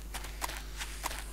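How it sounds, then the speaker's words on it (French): Footsteps in the survival game 7 Days To Die, a few soft irregular steps at mid distance with a short pause between them, heard alone without talk. "J'entends encore des bruits de pas chelous."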